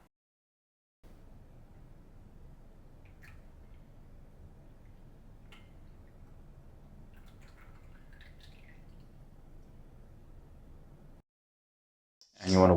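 Uji shincha green tea pours slowly from a Hagi ware hohin in one continuous soft trickling stream of about ten seconds, close and quiet, then stops before a brief louder knock at the end.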